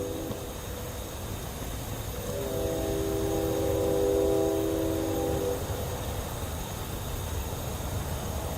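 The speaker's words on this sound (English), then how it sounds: "I think another train's coming through. I can hear it in the distance." A faint, distant rumble swells and fades as a train passes far off, heard from a forest campsite at night, with a low drone under steady outdoor background noise.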